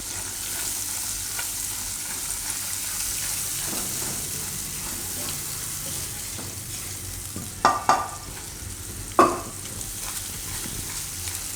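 Green garlic sizzles and fries steadily in a pan of hot oil, stirred now and then, with a few sharper clinks of a utensil against the pan close by.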